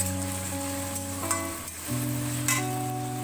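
Sliced onions and torn bay leaves fry in hot oil in a pan, a steady close sizzle with a few soft stirring knocks against a constant tonal hum, and no voices.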